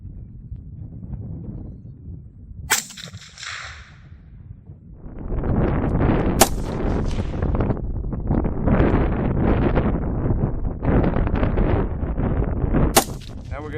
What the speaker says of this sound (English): Now we're going to do 3 shots.